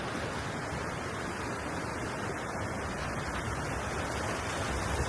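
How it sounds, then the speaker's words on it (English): A continuous, even roar of rushing water from a waterfall, unbroken and fairly loud, with no voices. "This is literally the waterfall."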